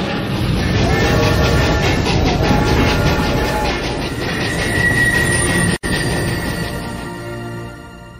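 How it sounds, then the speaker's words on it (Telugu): A train rolls along the rails as it departs, a loud, steady rumbling of wheels and carriages with faint tonal squeal and rhythmic rattle, briefly cut, then easing slightly toward the end. "ట్రైన్ బయలుదేరుతోంది."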